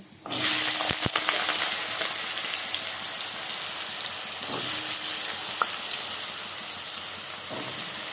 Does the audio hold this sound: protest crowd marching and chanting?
no